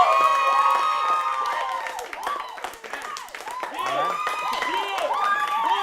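An audience cheers, whoops and claps loudly and without a break for a contestant, with several voices shouting high over the applause.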